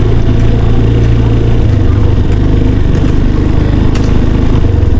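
A motorcycle engine runs steadily and close by, a continuous low rumble with a slight wavering throb, loud throughout.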